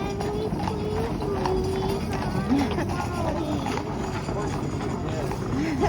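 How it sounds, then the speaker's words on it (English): A horse's hooves clip-clop on a street in a historic town, steady and fairly close, while people talk over a busy outdoor background. "There's the gentleman with the horse."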